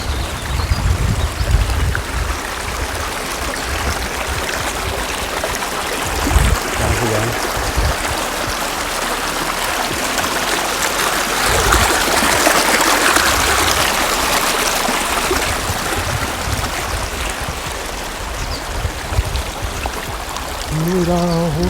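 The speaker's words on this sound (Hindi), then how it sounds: "पानी की आवाज़।" A stream rushing over large round stones in a hilly spot, a loud, continuous splashing wash that stays close and steady throughout, with occasional thumps and faint voices in the background.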